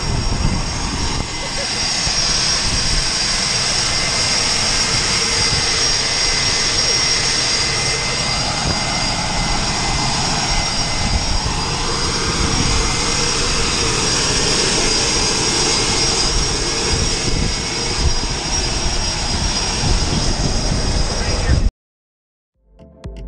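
A skydiving airplane's engine drones steadily and loudly for over twenty seconds, a constant roar with a high whine on top, then cuts off abruptly.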